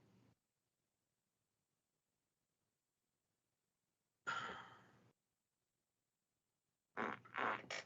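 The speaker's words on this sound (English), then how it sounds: "That's a little fart." A small fart, a short breathy puff in near silence, followed a couple of seconds later by a longer airy burst, both close and fairly soft.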